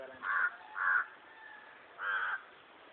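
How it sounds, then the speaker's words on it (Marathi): Three cawing calls from a young crow, the first two close together and the third after a short pause, each moderately loud and harsh against a quiet background. "कावळाच पण कावळ्याचं पिल्लू आहे"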